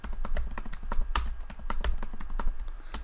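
Selenium WebDriver code is typed on a computer keyboard: rapid, close, steady clicking keystrokes with a few heavier taps, continuous for several seconds with no voices.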